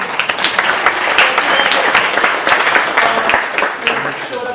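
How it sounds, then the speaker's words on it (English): Loud, close applause from guests at a celebration of life gathering, dense clapping throughout with some voices mixed in. "Yes, applause is good."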